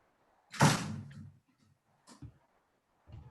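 A door swings shut with one solid thud at a moderate distance, followed by a couple of softer knocks and rattles in an otherwise quiet room.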